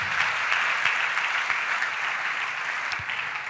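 A church congregation applauding, a steady, full wash of many hands clapping together throughout, close and fairly loud, with no talk over it.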